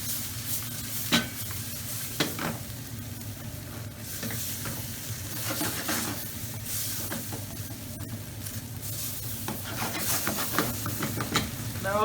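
Thai chicken fried rice with soy, oyster and fish sauce is tossed and stir-fried in a hot pan, a steady close sizzle broken by repeated scraping and stirring strokes.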